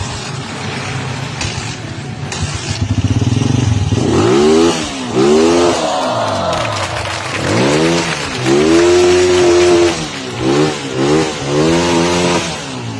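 Motorcycle engine revving hard in repeated bursts with rapid popping backfire on deceleration, loud and close, the motorbike having a misfiring spark plug.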